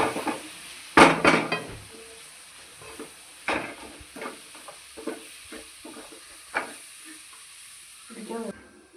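Beef with pepper powder sizzles in a pan while a spoon stirs it, with steady frying hiss broken by irregular scrapes and clatters against the metal.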